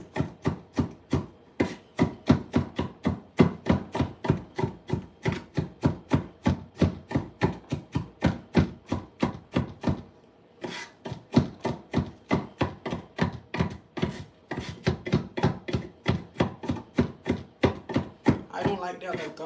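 Fresh garlic is chopped by hand with a knife on a board in a home kitchen, a fast, steady run of sharp close taps with one short pause midway before the rhythm resumes.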